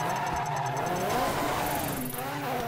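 A rally car in the racing game Dirt 3 drifts at sustained speed, its engine roaring steadily with a shifting, sliding tire hiss, loud and continuous throughout.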